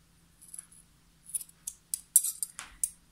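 Scissors trimming excess fabric from a skirt waistband, a series of quiet, crisp snipping clicks in irregular bursts, close and alone.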